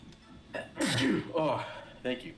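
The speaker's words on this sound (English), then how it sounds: "Hold on, I'm about to sneeze." A single sharp sneeze bursts out mid-stream, with a quick breath before it and a short spoken thank-you after, close and fairly loud.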